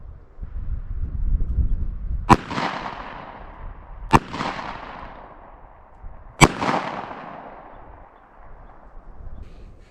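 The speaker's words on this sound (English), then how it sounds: "I'll shoot this one from 7 yards with our Speer Gold Dot 200 grain jacketed hollow point." Three sharp, loud gunshots fired at a meat target from seven yards using Speer Gold Dot 200 grain jacketed hollow point rounds, evenly spaced about two seconds apart, each followed by a short decaying echo over faint background rumble.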